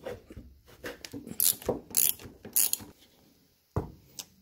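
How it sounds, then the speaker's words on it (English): A hand ratchet loosening half-inch bolts on a Pontiac V8 oil pump, giving bursts of close, clicking ratchet strokes mixed with metallic knocks and scrapes, then a few isolated clicks near the end. "let's take off these 1/2-inch bolts."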